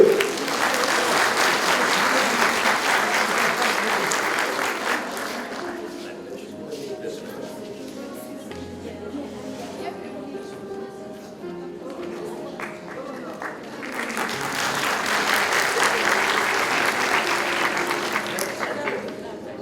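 An audience at an award ceremony claps in a loud burst, fades to quieter scattered clapping with music or murmur in the middle, then swells into strong applause again near the end.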